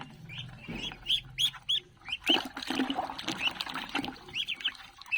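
Ducklings chirp and peep in rapid, repeated bursts while being bathed in water, with soft splashing and dripping close by; the scene is fairly quiet with no talk.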